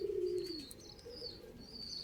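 Racing pigeons on a rooftop, a soft low coo followed by faint thin chirps over quiet outdoor background.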